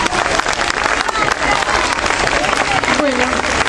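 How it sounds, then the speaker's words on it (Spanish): Audience applause at a reading marathon event, steady dense clapping from a crowd filling the whole stretch at a loud, even level. "La recibimos con un fuerte aplauso."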